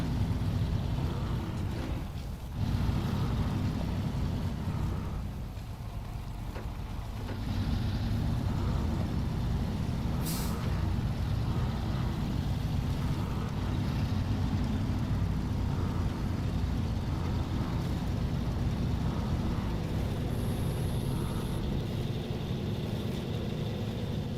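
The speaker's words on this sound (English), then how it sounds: "I still hear the Jeep. I thought I turned the Jeep engine off." Steady low engine rumble of a Jeep idling in the off-road truck game SnowRunner, continuous and fairly loud throughout with no talk over it.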